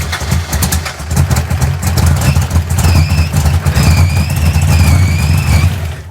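A Hemi-powered EFI Gasser engine idling fast with its throttle blades shut, a steady loud low rumble with a faint high whine wavering above it, continuous throughout.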